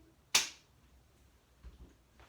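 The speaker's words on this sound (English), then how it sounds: "And we clap." A single sharp hand clap during an abdominal conditioning workout, loud and crisp with a quick decay, followed by faint low thumps of movement.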